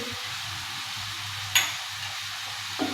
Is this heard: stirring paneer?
yes